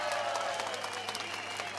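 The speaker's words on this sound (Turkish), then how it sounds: "Bu güzel başkanlarımızı, milletvekillerimizi biz coşkuyla alkışlıyoruz" A dense crowd at a Republican People's Party (CHP) rally in Hatay, Turkey, applauds its mayors and members of parliament: loud, steady, continuous clapping with a faint hum underneath.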